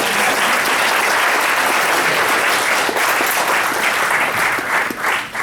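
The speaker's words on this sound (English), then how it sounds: "Let's have a round of applause for Jack Davis." Loud, dense applause from an audience at an environmental talk, sustained clapping throughout that thins slightly near the end, with a few voices faintly mixed in.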